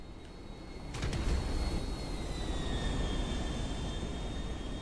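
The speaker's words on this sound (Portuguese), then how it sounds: "Ó o avião chegando" An airplane arrives at the airport in the video game GTA 5, its steady engine roar carrying a thin high whine that slowly falls in pitch, swelling slightly after a soft start, with no voices.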